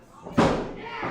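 A wrestler's blue thunder bomb slams onto the ring mat at a live wrestling show, one sudden heavy thud with crowd noise and commentary running underneath.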